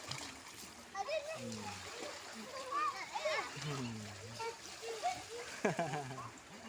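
Children splash water in a pool at an Andaman villa on an overcast afternoon, with repeated bursts of splashing and sloshing mixed with excited children's voices and chatter.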